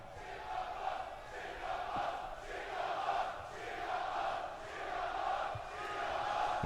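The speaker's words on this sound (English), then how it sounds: "The crowd's getting loud over here." A loud crowd at the UFC 229 McGregor vs Nurmagomedov press conference, a sustained roar of chanting and shouting voices that swells and ebbs in waves, with a few sharp thumps underneath.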